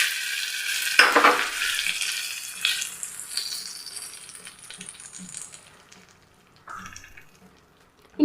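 Mustard seeds, urad dal, dried red chilli and curry leaves hit hot oil with a loud close burst of sizzling that slowly fades into a softer crackle, ending with a brief clink.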